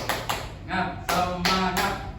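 A short burst of rhythmic hand clapping for a school physical education class, several quick claps in a patterned beat, close and fairly loud, with some voices mixed in.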